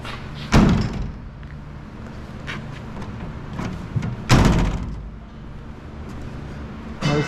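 Car door on a twin-turbo Coyote-powered Ford Galaxie swinging open and thudding against its stop, two loud knocks several seconds apart with quieter rustling between.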